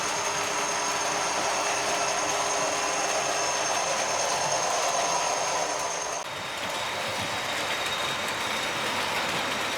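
A model Class 37 locomotive named Avro Vulcan runs along the track with a steady, close, continuous motor whir and rolling hiss, and a faint high whine that drops partway through.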